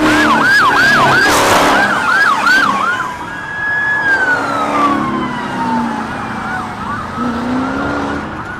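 Police cruiser sirens blare close and loud during a high-speed chase of a Dodge Charger, a rapid yelping pattern giving way to long rising and falling wails that gradually fade.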